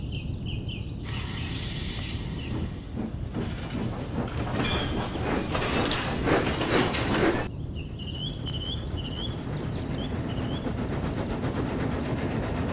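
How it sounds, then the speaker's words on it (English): Steam engines from the Sodor Online game roll along with a steady clickety-clack of wheels over rail joints, loud and continuous, with a brief burst of brighter clatter in the middle and some thin tonal chirps near the end. "So the two engines made their way to the big station."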